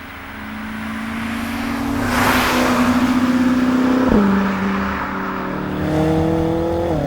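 A 650 hp BMW F10 M5 with a 4.4-liter twin-turbo V8 pulls hard through third gear out of a corner, its rising engine note loud and close, dipping briefly at a shift and climbing again.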